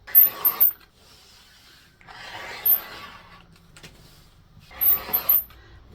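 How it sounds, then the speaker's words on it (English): Scissors cut through lined fabric along the edge of a stabilizer for a small pyramid pouch, making three separate bursts of crisp snipping and rustling divided by quiet pauses, close and clear. "With the right sides of the fabric facing, we can cut out along the edge of the stabilizer."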